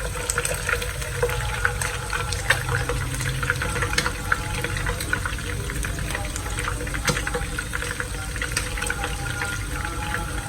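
Pieces of snakehead fish deep-frying in hot oil, a steady, even bubbling sizzle with fine crackles that holds at a constant level throughout, fairly close.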